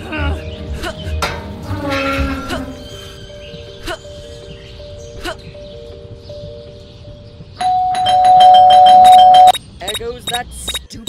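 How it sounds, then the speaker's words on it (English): A doorbell rings in the video game Scary Teacher 3D, its sustained electronic chime tones sounding several times among game effects and voices, with a louder, brighter ring late in the clip. "That stupid bell again."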